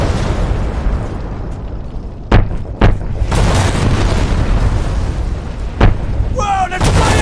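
Heavy booming blasts and sharp gunfire bursts from an AC-130 gunship in a Call of Duty video game erupt over a continuous rumbling battle din, a few big impacts standing out, with a brief electronic warble near the end.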